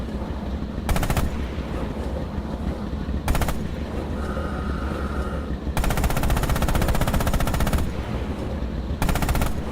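A tank's coaxial machine gun in the video game Rising Storm fires several loud, sustained automatic bursts separated by pauses, close and harsh over a steady engine rumble, with no voices.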